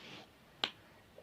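A single sharp snap from a fidget snapper toy, loud and close against a quiet background, with a faint click near the end.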